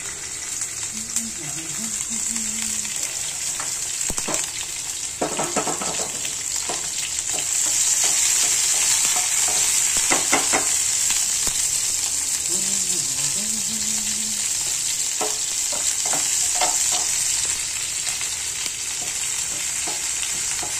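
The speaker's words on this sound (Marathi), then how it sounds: "ही मिरची चांगली तेलामध्ये तळून दिली ना" Green chilies frying in hot oil in a pan for a fasting khichdi, with a loud, steady sizzle that swells midway, stirring scrapes, and a person talking over it at times.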